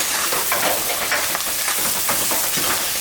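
Chicken frying in a pan with salt and turmeric gives a steady, close sizzle with bright crackles and occasional stirring scrapes, continuous for a few seconds with no talk.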